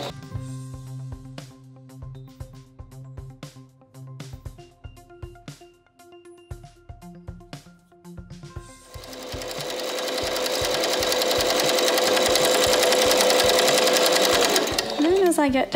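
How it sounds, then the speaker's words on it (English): Sewing machine backstitching a fabric mask: rhythmic stitching bursts start and stop, then a long steady, louder continuous run with a faint whine toward the end. "And you'll want to backstitch this."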